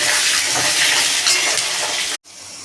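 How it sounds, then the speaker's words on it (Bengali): Loud, steady sizzling of potatoes frying in hot oil, a dense crackling hiss that cuts off abruptly near the end, leaving a quieter hiss. "আলুটা ভালো করে ভেজে নিচ্ছি"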